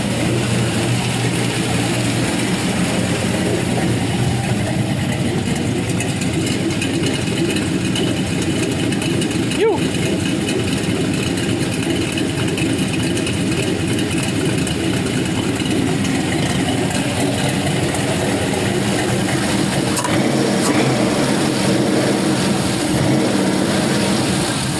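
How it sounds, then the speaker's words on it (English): A Big Cam 5.3L LS engine idles while warming up, a loud steady rumble with a constant low drone throughout, and people talk over it. "As it warms up, that RPM will slowly come down."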